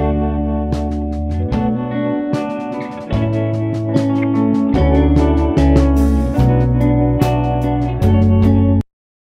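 Full music mix routed through a Brit 4KE / SSL 4000 analog console emulation, with steady bass, chords and sharp percussive hits playing loud and continuous before cutting off abruptly near the end.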